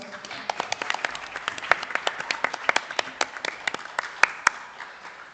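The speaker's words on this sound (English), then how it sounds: "a round of applause for all our participants" A round of applause for primary school quiz participants: dense, sharp individual claps from a modest crowd, steady throughout with a few louder hand claps standing out near the end.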